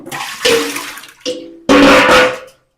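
Potatoes are washed in water in a home kitchen, giving three splashing, rushing bursts of water separated by short pauses, ending abruptly.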